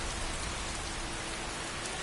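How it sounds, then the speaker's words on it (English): Steady rain falls in Skyrim, a dense, even hiss of droplets with no breaks over the short stretch. "it sounds like rain"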